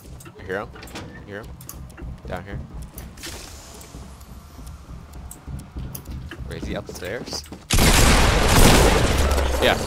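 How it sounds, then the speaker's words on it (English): A shotgun fires in an online video game as a loud burst near the end, following stretches of excited talk between players. "A freaking shotgun."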